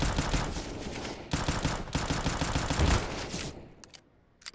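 Five-SeveN polymer pistol fired in Counter-Strike: Global Offensive during a professional match on the Vertigo map, with loud, rapid bursts of gunfire and overlapping shots that taper off near the end into a few sparse clicks.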